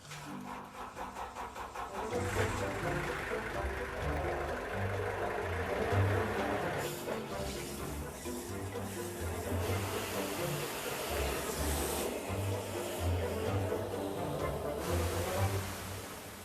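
A sewer jetting machine running in a continuous loud roar with a steady engine drone, strongest after the first couple of seconds and slightly varying throughout, heard alone without talk.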